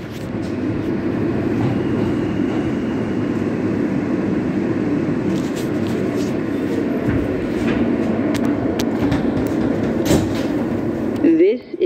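A Queens-bound New York City subway G train made up of R160 cars, heard from inside while riding: a steady low rumble of the moving car with faint clicks and rattles, ending in a brief squeal.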